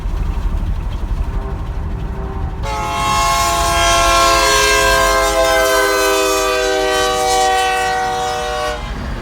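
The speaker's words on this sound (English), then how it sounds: "There was no way around this slow-moving train" Wheels clatter along as a slow Union Pacific freight train rolls past near Houston or Beaumont, Texas, then a loud, sustained horn blast sounds over the steady rumble.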